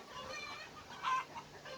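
A backyard chicken gives a short, faint cluck, a brief soft burst at a distance against an otherwise quiet background.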